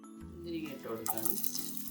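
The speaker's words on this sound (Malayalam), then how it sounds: "നേരത്തെ നമ്മൾ എടുത്തു വച്ചിരുന്ന നട്ട്സ് നമുക്ക് നെയ്യിലിട്ടൊന്ന് മൂപ്പിച്ചെടുക്കാം." Nuts frying in hot ghee in a pan for an oats laddu, a steady close sizzle with faint crackles, rising in brightness toward the end, with a low hum beneath.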